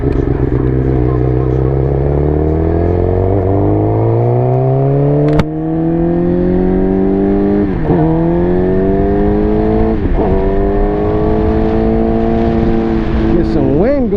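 Suzuki GSX-R motorcycle pulling away and riding along the road, its engine loud and close, climbing in pitch through several gears with short dips at each shift, and wind noise underneath throughout.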